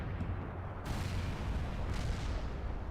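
Artillery barrage rumbling through a World in Conflict battle: a dense, continuous roar of distant booms and blasts, loud and unbroken across the whole stretch, with a sharp surge of louder bursts partway in.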